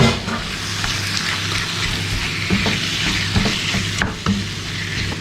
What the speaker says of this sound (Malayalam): അപ്പോൾ ഫ്ലെയിം ഒന്ന് കൂട്ടി വെച്ചിട്ട് നന്നായിട്ട് ഇതിനൊന്ന് വഴറ്റിയെടുക്കണം